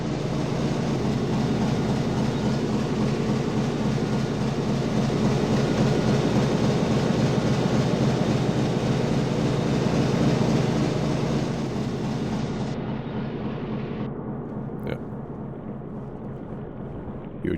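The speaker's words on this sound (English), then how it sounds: "Huge diesel engines." Huge diesel engines of a Type VIIC/41 U-boat in a 1941 WWII submarine game run loud and steady as a continuous droning rumble, with the sound thinning slightly near the end and no talk.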